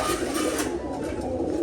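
Pigeons coo low and soft on a rainy day, their calls blended into a steady, hissing wash of background noise, with no talking.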